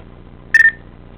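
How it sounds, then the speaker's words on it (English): A desk phone gives a single short electronic beep once the talk key is pressed after dialing a number, a clean tone lasting about a fifth of a second over a quiet background. "you hit the talk key and it will beep"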